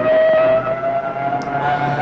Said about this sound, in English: I hope you can hear the siren.